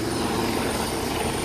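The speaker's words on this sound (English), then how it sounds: "You can see a United States Coast Guard helicopter behind me." A United States Coast Guard helicopter flies close by during hurricane rescue operations in the Bahamas, its rotor and engine roar loud and steady throughout without a break.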